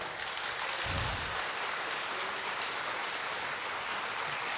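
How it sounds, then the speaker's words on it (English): A live audience claps steadily at a medium pace at a horse trainers' competition, a dense, continuous wash of hand claps filling the whole stretch with no talk over it. "could you guys clap about medium? Just kind of a medium pace there."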